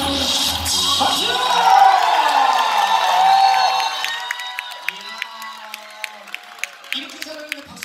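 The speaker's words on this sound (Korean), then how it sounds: "박수!" Audience at a Korean performance cheers and shouts loudly, then the crowd noise fades into scattered, sharp individual claps spaced out near the end, with voices heard over the early cheering.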